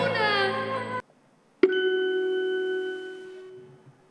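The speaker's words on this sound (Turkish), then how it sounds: "Gong vuruldu." A gong struck at an Arabic poetry and quiz competition in Konya, one sharp metallic strike ringing into a long, steady sustained tone after a moment of silence. A voice sings just before it.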